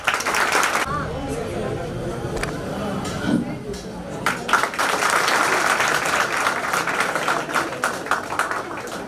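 Loud applause and scattered clapping from a seminar audience, a dense wash of claps under crowd chatter with a voice speaking at the start, swelling stronger in the second half.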